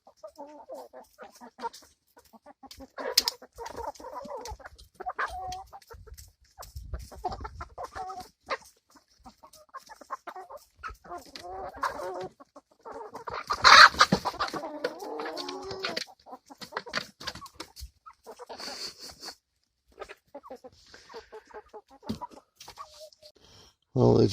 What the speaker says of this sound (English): Happy hens. Lay some happy chicken eggs.